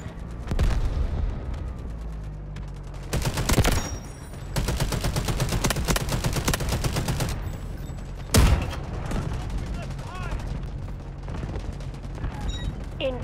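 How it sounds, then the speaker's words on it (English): Delta Force video game combat: an artillery barrage with dense bursts of rapid gunfire and heavy booming impacts, loud and sustained, with sharp louder blasts breaking through the continuous firing. "Artillery ready for barrage."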